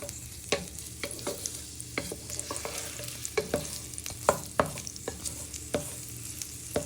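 Shallots and garlic fry in olive oil for a slow-cooked squid and chorizo casserole. A steady close sizzle runs under frequent clicks and scrapes of stirring, and no one speaks.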